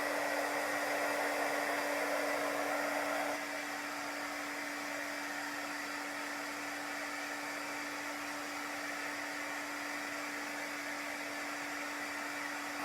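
A hair dryer blows steadily to dry chalk paste during a marble-and-gold-leaf craft project, a constant close whooshing hum with a steady tone that drops slightly in level after a few seconds, with no talking.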